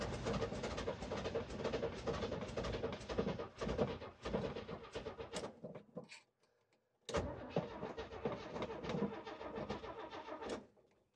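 A Chevrolet squarebody truck with no electric choke hooked up cranks in a rapid, churning starter rhythm, stops for about a second, then cranks again, close and loud, with no talk.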